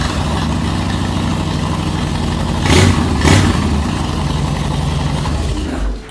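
A 2013 Harley-Davidson FLSTN Softail Deluxe motorcycle engine runs steadily at idle with fresh spark plugs, nearby and loud, with two brief throttle blips in the middle before the sound cuts off at the end.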